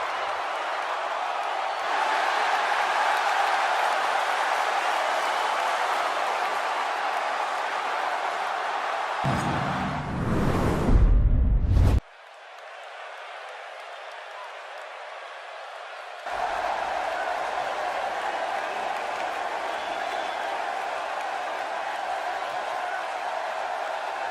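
A live arena crowd in WWE 2K16 roars with applause and cheering in a sustained wash of noise that drops out abruptly midway, then returns and carries on steadily.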